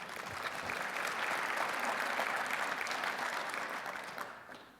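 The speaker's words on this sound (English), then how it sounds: "thank you for applauding my brother" An audience at a Reagan Forum event applauds warmly for the speaker's brother, a steady crowd of clapping that swells and then tapers off near the end.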